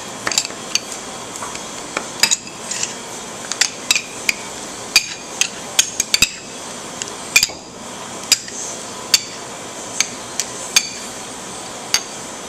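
Ice cream being worked together with rainbow sprinkles and brownie pieces at a Coldstone Creamery counter, heard as a steady run of sharp metallic taps and clinks repeating every half second or so over a soft background hum.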